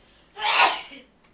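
A single sharp, breathy sneeze bursts out close by, followed by a short exhale and then quiet.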